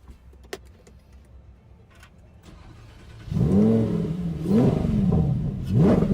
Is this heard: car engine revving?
yes